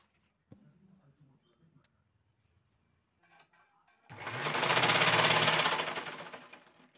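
A sewing machine stitches cloth, sewing a drawstring casing on a handmade garment, starting after a quiet stretch and running loud and steady for about three seconds.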